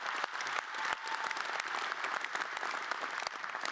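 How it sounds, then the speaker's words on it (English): A large keynote audience breaks into dense, continuous applause, a full wash of overlapping claps from a big hall that holds steady for several seconds. "Big round of applause for these guys."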